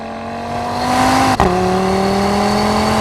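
A 2019 Audi TT RS five-cylinder engine at full throttle heading into a corner: a loud, close steady engine drone that climbs, then briefly drops with a quick shift-like break before holding a lower, even note.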